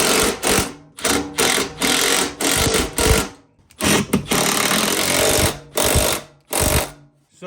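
An impact wrench rattles nuts and bolts tight on a CFMOTO ATV door, firing in about a dozen short, loud, close bursts of hammering with brief pauses between them.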